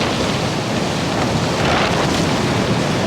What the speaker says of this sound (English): Yeah, quite a blustery one.